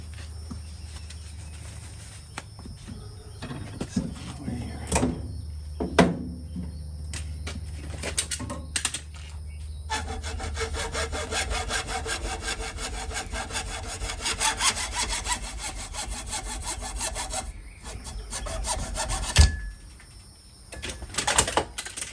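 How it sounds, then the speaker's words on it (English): A hand saw cuts through a plastic rail from a 1960s Craftsman two-drawer tool box clamped in a vise, with steady rasping strokes that start hesitantly, then settle into a fast, even rhythm, close and fairly loud, ending with a clunk. "I've got it in the vise, and let's cut it."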